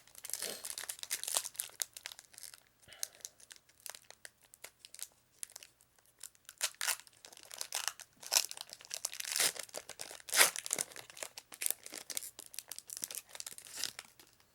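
Foil wrapper of a Magic: The Gathering Ikoria booster pack torn open by hand, with crinkling and ripping bursts coming in irregular waves, near and fairly quiet, without talk.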